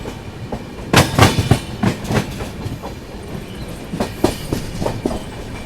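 Garib Rath superfast express train rushing past at speed, loud rhythmic clatter of wheels over rail joints with repeated sharp bursts as coaches go by, close and continuous with no talk.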